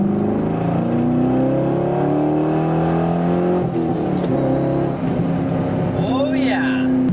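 A C5 Corvette engine revs out hard in second gear, rising and falling loudly and continuously up close, with the pitch sweeping up through the revs.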